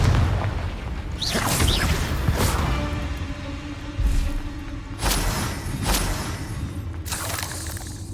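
Repeated Confringo fire spell explosions in Hogwarts Legacy, a string of loud booming bursts with whooshing bright crackles, rumbling low underneath and spaced a second or two apart.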